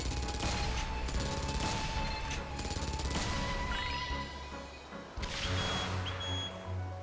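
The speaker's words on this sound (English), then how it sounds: "Quickly, Professor, shoot them down! Shoot all the blue missiles." Rapid firing in Professor Layton and the Azran Legacy on the Nintendo 3DS as blue missiles are shot down: a dense, steady run of game shots and impacts over a continuous backing, with a brief dip near the end before resuming.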